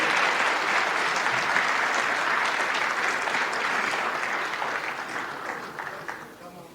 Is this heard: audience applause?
yes